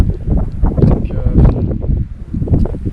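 Gusty wind buffets the microphone in loud, rumbling surges during a rainy landscape photography outing, with a steady rushing wash of rain underneath.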